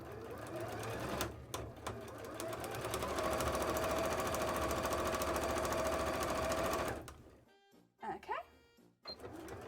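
Sewing machine stitching bias tape for cosplay, a steady loud mechanical whir running for about seven seconds before stopping, followed by a few faint handling sounds.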